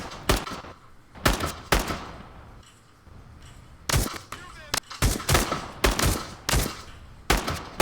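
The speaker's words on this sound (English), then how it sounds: "getting shot!" Gunfire in the VR shooter Into The Radius 2 cracks out in loud, sharp bursts: a couple of early shots, then a rapid cluster of close reports with brief gaps between them.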